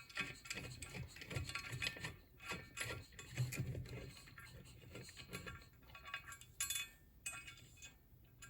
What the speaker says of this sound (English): 10 millimeter bolt size, and they take a 14 millimeter wrench to tighten them